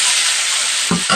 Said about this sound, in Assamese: এইখিনি আগতে অকণমান ভাজি লওঁ